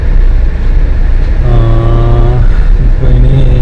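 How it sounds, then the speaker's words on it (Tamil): Diesel car driving along a main road, steady loud road and engine rumble throughout, with a rising tonal whine from about halfway that fades and returns near the end. "நான் வந்து வச்சிருக்கிறது டீசல் வண்டி."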